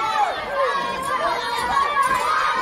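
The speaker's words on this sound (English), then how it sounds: "we see the young fans at ringside cheering on their hero, Tyler Gray" Young wrestling fans at ringside shout and cheer in a lively, continuous din at a small independent wrestling show in Sedalia, Missouri, with excited children's voices rising over the crowd chatter.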